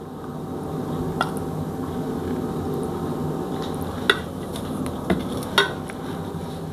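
A spoon stirs curd into cucumber pachadi in a bowl, with a soft, steady mixing sound broken by a few sharp clinks against the bowl's side.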